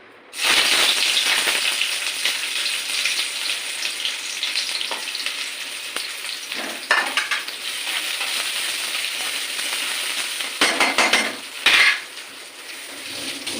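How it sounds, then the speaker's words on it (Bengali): Onions fry in a pan with a loud, continuous crackling sizzle, broken by a few scraping stirs and knocks of the utensil, heard up close with no speech. "এর মধ্যে আমি আগে পেঁয়াজটা একটু ভেজে নেব"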